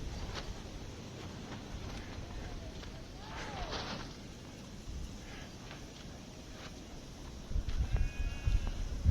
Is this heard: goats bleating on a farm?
yes